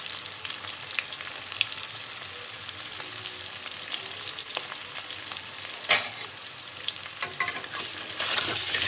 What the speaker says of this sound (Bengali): প্রথমে আমি আলুগুলো একটু ভেজে নেব